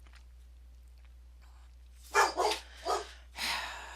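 Dogs bark in a quick cluster of four sharp, fairly close barks, coming after a quiet stretch that holds only faint background noise and a brief spoken word.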